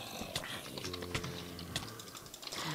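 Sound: typing on a computer keyboard during Minecraft

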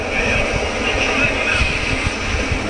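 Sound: aircraft engine in an arcade flying game, from a video game

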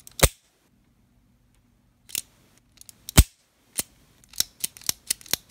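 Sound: Taurus Model 82 .38 Special revolver action being cycled

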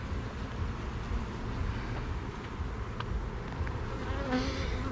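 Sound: honey bees buzzing on a hive frame

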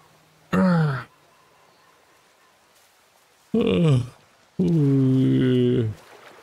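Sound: yawn

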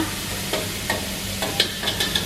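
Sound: coconut cream frying until oil separates

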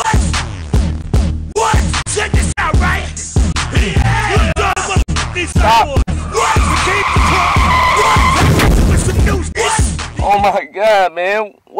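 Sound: car skidding and crashing into someone

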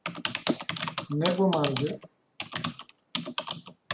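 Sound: typing a terminal command on a computer keyboard

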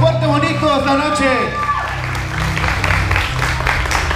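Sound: applause from the dance party guests

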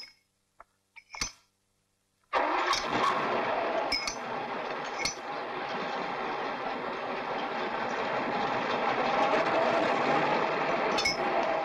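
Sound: engine starting

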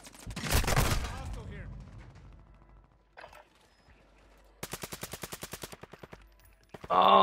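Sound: SMG gunfire in a video game

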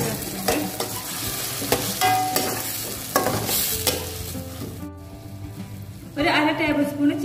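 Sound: soy sauce poured into sizzling vermicelli pasta, stirred

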